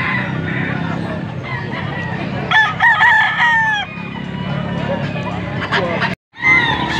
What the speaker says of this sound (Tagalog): Sisiw.